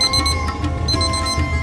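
Kitchen timer alarm going off after a one-minute countdown while spices toast in olive oil for an aloo gobi dish, a steady repeating electronic beeping that fills the whole moment, loud and close with no talk.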